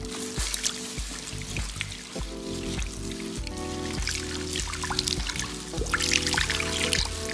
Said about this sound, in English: Now I'm washing the fixati from her hair.